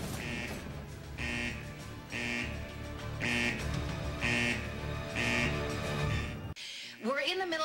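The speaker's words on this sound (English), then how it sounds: "We're in the middle of a lockdown right now, which is why the alarms are going off" Prison lockdown alarm sounding as a loud, repeating electronic buzz about once a second, over a constant mechanical hum, then cutting out before a brief rising tone.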